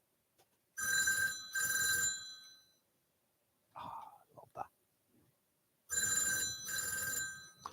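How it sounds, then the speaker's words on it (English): Old-style telephone bell ringing through a small PABX, two loud double-burst rings near the start and two more at the end, with brief soft speech and clicks between them. "the phone ringing or the clicking in the little PABX."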